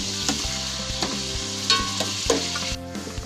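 Chopped onion and fresh garlic sizzle steadily in a pan, with a constant close crackle and occasional scraping stirs; no one speaks.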